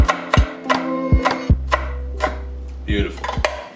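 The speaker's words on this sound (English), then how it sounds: "so I'm just thinly slicing them" Knife thinly slicing onions on a cutting board, a handful of sharp separate chops in uneven rhythm with a low background hum and a brief clatter near the end, close and fairly loud, no voices.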